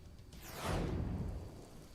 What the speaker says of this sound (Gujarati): અલગ અલગ વિસ્તારોમાં વરસાદ વરસી રહ્યો છે